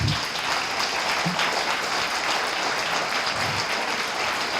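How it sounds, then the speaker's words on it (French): An awards ceremony audience applauds the women of the team, a thick, even wash of clapping from a large crowd that holds steady from start to finish. "Alors on les applaudit."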